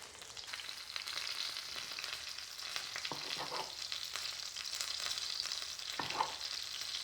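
Chicken cutlets fry steadily in a pan for a low-carb chicken parmesan, giving a continuous soft sizzling hiss with a couple of faint utensil knocks, close but fairly quiet, with no voices.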